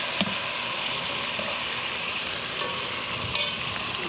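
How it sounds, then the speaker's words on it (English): Crawfish tails frying in a pan for jambalaya give off a steady, close sizzle throughout, with a few faint scrapes and stirring clatters layered over the hiss. "So I'm gonna add the crawfish, and we just wanna kind of heat it up"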